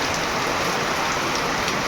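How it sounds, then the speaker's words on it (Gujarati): Heavy rain pours down in Gujarat, a dense, even hiss of drops striking surfaces that stays constant and loud throughout, with no voices or other sounds. "આજે બધી બાજુ વરસાદ ફૂલ જોરદાર છે."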